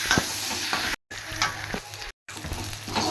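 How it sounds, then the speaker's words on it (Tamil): Small onions sauté in a hot pan, a close, steady sizzle with scraping stir strokes, broken by two brief silent cuts. "நான் சின்ன வெங்காயத்தை போடுறேன்"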